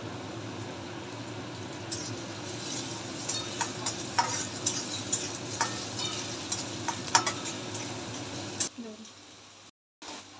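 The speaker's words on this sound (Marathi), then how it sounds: "कांदा चांगला गुलाबी रंगावर भाजून घ्यायचा आहे।" Finely chopped onion and curry leaves sizzle in a pan while a spoon scrapes and stirs them in irregular strokes; steady close frying hiss with clinking stirs, then the sizzle drops away near the end.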